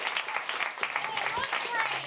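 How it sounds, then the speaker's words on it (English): An audience claps at a live stand-up comedy show at a cellar club, a spread of uneven claps rising and falling under a speaking voice. "Don't clap. Don't clap."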